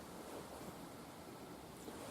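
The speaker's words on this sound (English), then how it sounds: "But as you can see, it's kind of windy." A soft, steady rush of wind blows faintly and continuously across a clear-cut during a hunt, with no distinct events breaking the noise.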